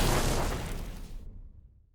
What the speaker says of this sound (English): I then added two fire poof sounds and hard panned them left and right, respectively.